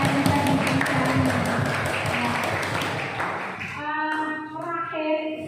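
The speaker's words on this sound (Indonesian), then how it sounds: "beliau berdua kita kasih aplaus sangat luar biasa dalam menyampaikan ini" Applause from an audience at a school mentoring session honoring two teachers: a dense, steady patter of clapping for about three and a half seconds, then a voice begins speaking.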